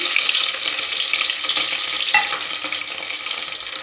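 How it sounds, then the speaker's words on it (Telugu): Cumin, mustard seeds and garlic fry in hot oil for onion pulusu, a close, steady crackling sizzle with small pops, and no voices over it. "ఇందులోకి జీలకర్ర సాసవులు వేసాను. తెల్లగడ్డ వేసుకున్నాను."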